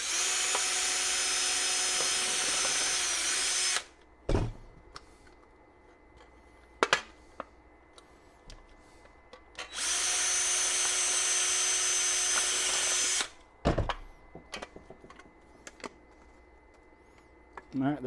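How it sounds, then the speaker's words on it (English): A power drill drilling holes for a ham radio antenna mast whirs in two long bursts of several seconds each, separated by clunks and handling knocks, with people talking in between. "Make sure your holes are still aligned when you're drilling your holes."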